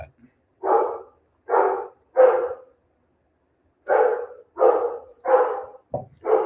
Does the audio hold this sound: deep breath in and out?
no